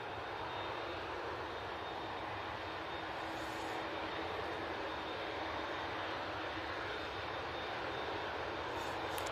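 Emirates airliner on final approach near Manchester Airport, a steady continuous engine roar filling the whole stretch at even, moderate loudness without letup.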